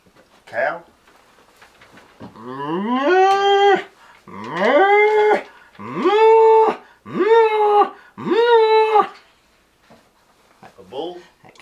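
A voice imitates a cow mooing, with five loud, close, sustained moos in a steady rhythm, framed by short vocal sounds at the start and end.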